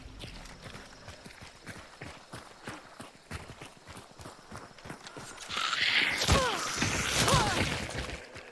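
A horse walks with steady, evenly spaced hoof clip-clops in the video game Hunt: Showdown, then a louder burst of game sound rises over the hoofbeats.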